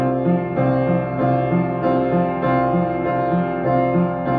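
Piano playing the repeating chord pattern of a song from Julie and the Phantoms, with steady rhythmic chords repeating evenly and sustained, heard close and alone.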